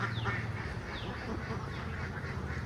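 Ducks quack near a rain-soaked paddy field, a steady chorus of overlapping nasal calls close by, repeated every second or so over a constant wet, hissing background.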